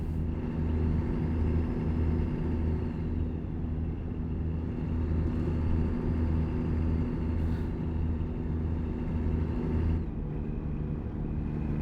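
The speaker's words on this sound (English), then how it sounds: "this is a Kenworth T680, and it's got the Cummins ISX 15, so 500 horsepower" Kenworth T680 truck with a 500-horsepower Cummins ISX 15 engine driving in American Truck Simulator, a steady, loud low diesel drone and rumble that holds evenly throughout with faint higher whines rising and falling.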